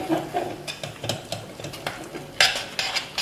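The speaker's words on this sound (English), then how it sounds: "And just give it a stir." A utensil stirring spices in a pan for Kerala-style grilled fish, with irregular scraping and clinking strikes over a faint background sizzle, close and fairly loud with no talk.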